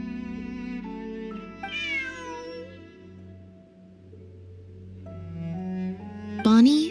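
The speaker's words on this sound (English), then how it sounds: "Bonnie is Pierre's cat" In Genshin Impact, a cat meows a few times over soft, sustained game music, with a drawn-out meow early on and a sharper, louder one near the end.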